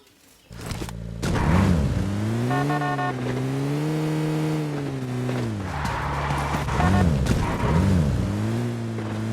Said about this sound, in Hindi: फिर भी किल के लालच में गाड़ी लेके वहाँ पे निकल पड़ता हूँ